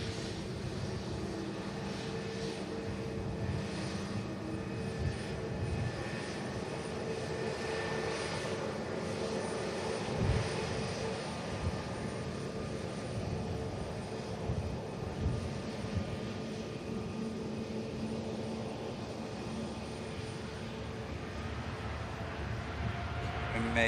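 Wide-body airliner, a Qatar jet, landing and touching down on the runway at a busy airport, heard as a steady, continuous engine roar at moderate distance with broad rumble and no clear impact, joined by a faint voice at times.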